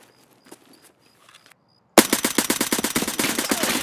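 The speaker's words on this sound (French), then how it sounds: "j'ai tiré tellement de balles" Near, loud automatic rifle fire in the shooter Escape from Tarkov, a rapid sustained burst of cracking shots that breaks abruptly out of near silence.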